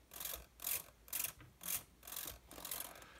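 Small RC servo driving the ailerons on a Guillows Zero balsa model, giving about six short whirring, ratcheting bursts in an even back-and-forth rhythm, close and fairly quiet with no talking.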